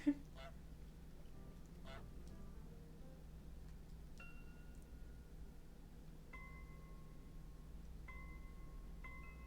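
Geese in a video game give a few honks, a loud one at the start and thinner tonal calls later, over a quiet steady background.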